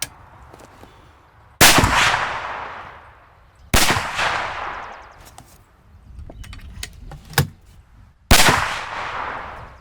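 A 400 Legend rifle fires at targets 100 yards out, with four sharp, loud shots spaced a couple of seconds apart, each followed by a rolling echo and some faint clanks between them.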